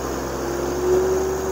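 A Tata truck engine climbing a mountain ghat drones loud and close, its pitch rising steadily as it regains RPM. No one speaks.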